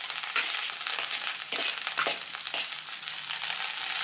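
Chopped purple vegetables sizzle and crackle in a hot pan, a steady close frying hiss with a few louder bursts as they are stirred.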